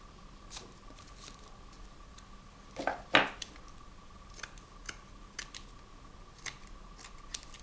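Scissors trimming book-page paper for journal cards, a few crisp close snips amid quiet handling and rustling, one cut louder and longer than the rest.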